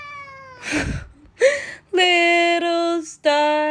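A pet cat lets out several loud, drawn-out meows and caterwauls nearby, alternating with a person singing a nursery rhyme, the cat's wails clashing with the tune.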